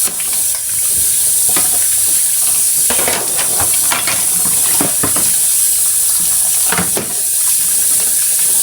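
Tap water runs hard into a kitchen sink, a loud, steady hissing splash with irregular clattering and knocks of dishes or handling throughout.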